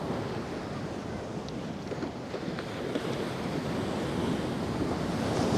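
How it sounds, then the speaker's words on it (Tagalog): Ocean waves crash and surge continuously on a remote beach in General Nakar, Quezon, a loud, steady roar of surf mixed with wind buffeting the microphone. "Grabing alon dyan, oh."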